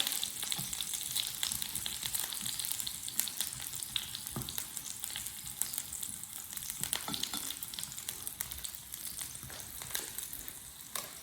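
Food sizzles and crackles steadily in a hot pan, close up, with small pops and occasional scraping of a utensil stirring.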